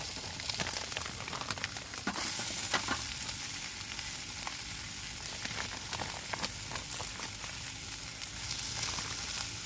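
Kale stir-fries in a pan at an outdoor campsite by a reservoir in Rayong, giving a soft, continuous sizzle with scattered crackles and occasional stirring taps.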